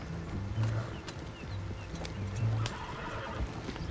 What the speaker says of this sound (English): And my horse is out here.